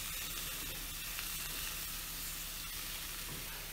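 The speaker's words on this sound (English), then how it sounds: "We're searing the chunks so it seals the juice in so they don't just result in mush" Chunks of venison searing in a hot pan for chili give a steady, close sizzle and frying crackle that runs unbroken throughout, with no talking.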